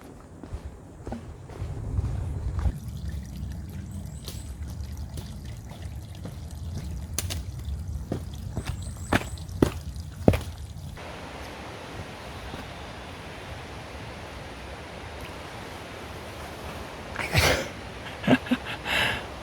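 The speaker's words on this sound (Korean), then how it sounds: "저기 멀리서 계곡 물소리가 들린다." Steady rushing of a mountain stream in the distance on Yumyeongsan mountain, South Korea, with footsteps and scuffs crunching nearby over the flowing water.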